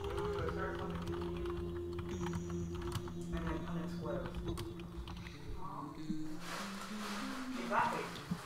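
Computer keyboard arrow keys pressed in a series of light clicks, scattered irregularly over a steady droning background.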